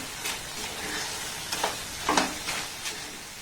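Rice-flour filling cooked in a pan over a low to medium gas flame, with soft scraping stir strokes and a faint sizzle, a few clearer spoon scrapes standing out against a steady quiet hiss.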